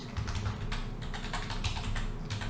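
Typing on a computer keyboard while entering a website name, a steady run of close, quick key clicks with a few slightly louder strokes, no voices.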